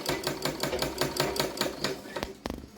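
A sewing machine stitches after a fresh needle is fitted, giving a fast, even run of close mechanical clacks that stops near the end, followed by a couple of separate knocks.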